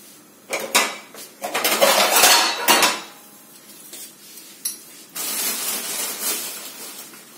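A ladle of sugar tipped into hot ghee in a metal pan, with loud clattering scrapes of the ladle against the pan followed by a steady hissing rush, close and alone.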